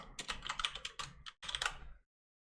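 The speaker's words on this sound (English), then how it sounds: "start typing Final Fantasy VII" Rapid typing on a computer keyboard, a quick close burst of clicking keystrokes lasting about two seconds with a brief pause near the end, then silence.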